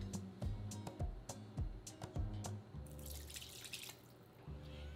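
Chicken broth poured into tamale masa, a series of quiet liquid drips and splashes followed by a brief steadier pour, faint and close.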